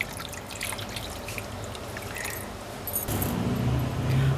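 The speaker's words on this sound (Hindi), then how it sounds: "और साथ में इसमें डाल देंगे आधा कप पानी।" Half a cup of water is poured into a pan of chicken and milk for a chicken fry, a soft trickle that grows louder and fuller toward the end, over faint kitchen background noise.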